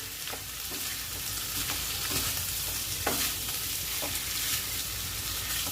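Potato curry sprinkled with kasuri methi fries dry in a pan, with a steady close sizzle and repeated scraping stirs breaking through at intervals.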